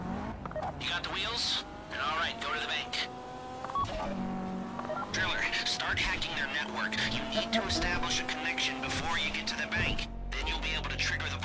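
An armored Karin Kuruma car driving in GTA Online heists, with a continuous engine drone rising and falling through gear shifts, under people talking and game sounds.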